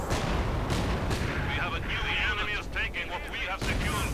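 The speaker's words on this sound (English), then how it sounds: "we are seeing artillery getting called in." Artillery shells land in the World War II strategy game Company of Heroes 2, with heavy, continuous booms and rumbling blasts packed densely together and a commentator's voice running underneath.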